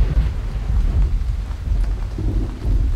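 Deep rumbling thunder rolls continuously beneath a steady wash of rain hitting the ground in a video game, loud and close, with no voices.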